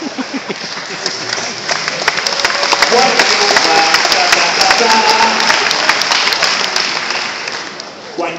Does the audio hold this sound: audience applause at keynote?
yes